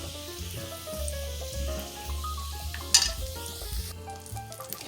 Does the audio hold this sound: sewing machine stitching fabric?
no